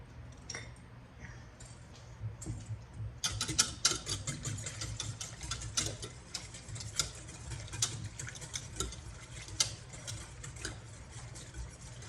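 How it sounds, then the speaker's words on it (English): Whisk scraping and ticking rapidly through a flour-thickened sauce for seafood lasagna in a pan, a quiet, busy metallic patter over a low hum, starting sparse then turning steady and continuous. "I'm also going to whisk it a little bit"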